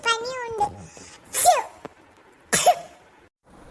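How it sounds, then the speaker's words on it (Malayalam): A boy coughing and sneezing: a short vocal sound, then two sharp, loud explosive bursts about a second apart, close to the microphone, followed by quiet. "മോനെ ഭയങ്കര ചുമയും തുമ്മലും"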